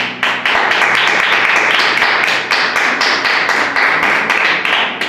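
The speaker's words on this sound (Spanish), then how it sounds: "Vamos a darle un aplauso a la palabra de Dios." A church congregation claps loudly and steadily for about five seconds, a dense, even patter of sharp hand claps close by with no talking over it.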